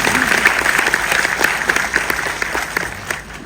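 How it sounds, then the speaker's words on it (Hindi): An audience at a talk session in a Delhi auditorium claps together in a sustained burst of applause, dense rapid hand claps filling the hall throughout before tapering slightly at the end. "ताली बजाओ."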